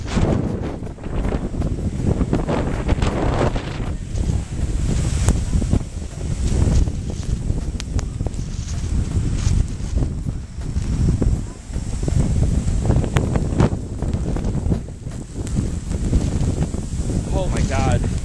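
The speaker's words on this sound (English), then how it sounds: "The wind just took my breath away." Strong Hurricane Sandy wind roars and buffets the microphone in a loud, continuous rush that never lets up.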